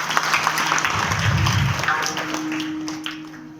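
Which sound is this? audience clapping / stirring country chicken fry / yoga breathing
audience clapping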